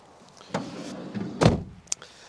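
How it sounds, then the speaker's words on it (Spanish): Door of a Renault Kangoo van being closed from inside: a short rustle and movement, then a solid thud of the door shutting near the middle, followed by a sharp click, fairly close and with no talking. "Entramos en las plazas y cierre la puerta, que no me quiero congelar."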